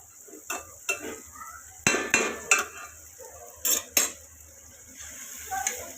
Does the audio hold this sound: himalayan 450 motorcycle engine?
no